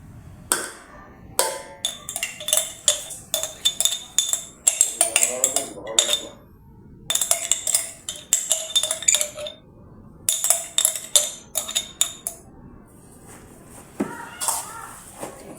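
Grated cassava for suman is mixed in a bowl, with repeated clinks and scrapes of a utensil against the dish coming in irregular bursts and short pauses. Faint voices can be heard in the background.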